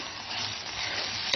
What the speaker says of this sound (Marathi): आता हे असं छान परतवून घ्यायचं, त्यामुळे त्याला कोथिंबिरीचा देखील छान स्वाद येईल